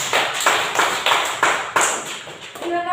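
A class of students claps for a discussion group in a steady, rhythmic beat of sharp hand strikes at an even pace, and a voice cuts in briefly at the very end.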